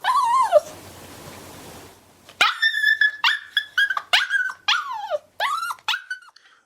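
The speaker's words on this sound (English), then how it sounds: "your puppy or your dog is barking in their crate or in a penned area" A puppy confined in a crate whimpers with a high, wavering whine, falls quiet briefly, then lets out a rapid series of sharp, close yips and barks.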